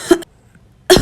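A woman in an animated Hindi story coughs twice, with two short, loud, close bursts separated by a brief silence.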